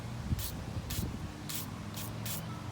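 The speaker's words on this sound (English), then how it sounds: "with my garden hose, see there it is, it's set on mist. Real lightly." A garden hose set to a light mist gives five short, airy hissing bursts in an even rhythm over a quiet background.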